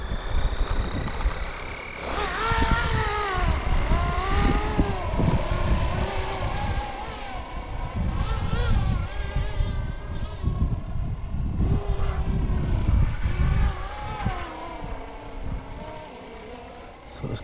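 A rebuilt Flywing FW450 Airwolf RC helicopter runs with a loud, close, wavering whine whose rotor and motor pitch rises and falls continuously, heard throughout with some talk mixed in.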